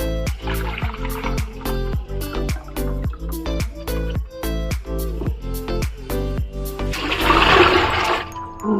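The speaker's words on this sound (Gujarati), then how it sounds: "એ 3 બાઉલ ભરીને અત્યારે પાણી એડ કરી દઈશું" Water is poured into a cooking pot while making sabudana papad, a rushing splash swelling near the end over steady rhythmic background tones.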